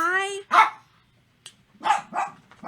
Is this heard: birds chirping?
no